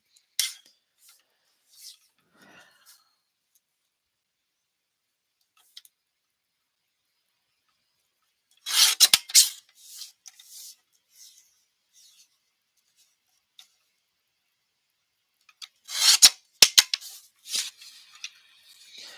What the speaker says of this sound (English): So I'm gonna just cut this down to 4 1/4 by 5 1/2.